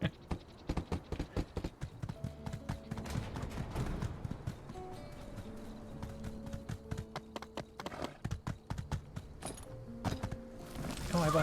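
Horse hooves clip-clop in the video game My Time at Sandrock, a fast run of sharp, close hoofbeats in bursts, pausing and then picking up again, with no talking.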